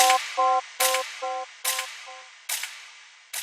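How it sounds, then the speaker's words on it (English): Gunshot sound effect in a Jersey drill beat, five sharp cracks spaced about every 0.8 seconds, each ringing out with a tonal tail, alternating with short melodic stabs, loud and close with no voices. "and then we have the shot effect"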